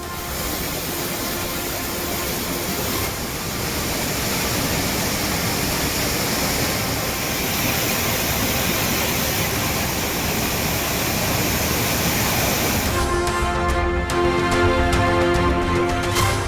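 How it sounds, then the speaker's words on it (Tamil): Thirupparappu waterfall in Kanyakumari, swollen by Kothai river floodwater spilling over the safety arches, roars as a loud, unbroken rushing torrent throughout, with no voices. "கன்னியாகுமரி மாவட்டம் திருப்பரப்பில் 2வது நாளாக ஆர்ப்பரித்து கொட்டும் அருவி"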